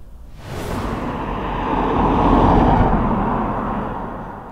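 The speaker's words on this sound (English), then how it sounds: "we're almost far enough away to not hear cars" Traffic on a nearby road beside the Chichester Ship Canal, a broad steady roar of passing cars that swells toward the middle and eases off, continuous with no voices.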